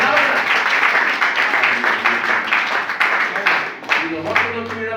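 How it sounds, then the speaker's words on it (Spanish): Congregation applauding at a Spanish-language church service, steady clapping across the whole stretch with voices and a low sustained tone underneath near the end. "Den un aplauso por la palabra del Señor."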